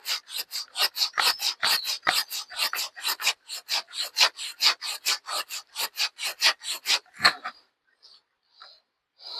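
Rhythmic rasping strokes of a dulled hand saw biting into a tree trunk near coconut palms, close and brisk, with one heavier thump before the strokes end and only a few light scrapes remain.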